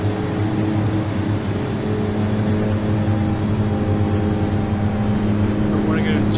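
DHC-6 Twin Otter turboprop engines in FSX run steadily just below full power, a loud continuous droning hum with a constant propeller tone throughout, with a voice speaking over it.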